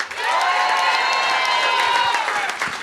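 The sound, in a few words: audience cheering and applause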